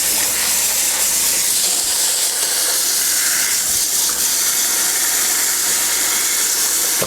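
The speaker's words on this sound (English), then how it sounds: "And I'm going to use this sprayer on here." A water sprayer blasts continuously into a ceramic case to flush out black residue, giving a loud, steady, close hiss with no break and no talk.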